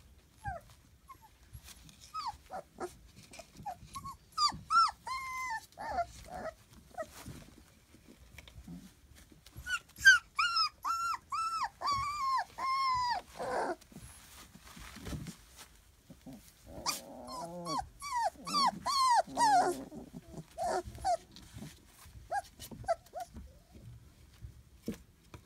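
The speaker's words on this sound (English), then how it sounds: "puppy." A puppy in a whelping box whimpers in high, wavering cries broken by short growls and yips, close by, coming in bursts with brief pauses between them.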